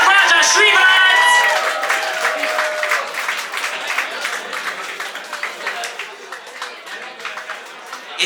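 Audience applause with cheering and whoops at a live EP launch party, loud at first then settling into steady clapping that continues through the clip, with a voice speaking over it.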